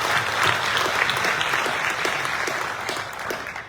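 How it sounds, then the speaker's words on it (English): Audience applause at a general session of the American Legion Department of Ohio convention, a steady, full round of clapping from a large crowd that holds evenly throughout. "So I would like to give them a round of applause."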